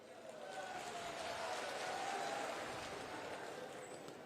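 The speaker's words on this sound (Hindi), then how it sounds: "आपने तालियां बजाकर स्वागत किया है, अभिनंदन किया है" A crowd in Agra applauds to welcome Defence Minister Rajnath Singh, a steady wash of clapping that swells in the middle and eases off toward the end.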